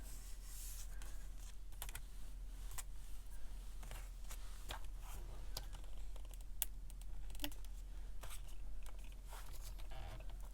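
Scissors snipping paper scraps for a junk journal, a string of sharp irregular clicks and snips close by over a faint steady hum, no talking.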